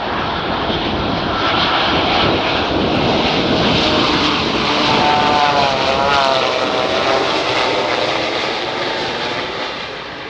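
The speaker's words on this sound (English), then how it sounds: "Here's another example of a 787 coming in at a Boeing test facility." A Boeing 787 airliner flying past at a Boeing test facility, a loud sustained engine roar with a smooth droning whine that shifts in pitch as it passes, then eases slightly.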